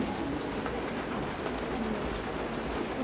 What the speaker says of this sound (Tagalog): ito kalapati natin